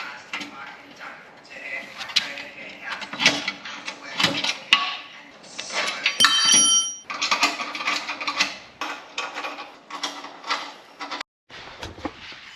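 Five small bolts being fitted into home gym equipment on each side, heard as a run of close metallic ratcheting, clicking and scraping, with occasional clanks and brief pauses.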